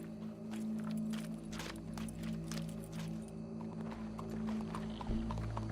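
Horse hooves clip-clop at a walking pace as riders approach in Red Dead Redemption 2, a faint, steady clatter over a low ambient hum.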